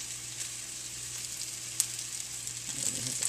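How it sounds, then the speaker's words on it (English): Steady sizzling of potatoes frying in hot oil in a pan, a constant hiss with a few small pops and a slight swell toward the end. "now the oil is hot"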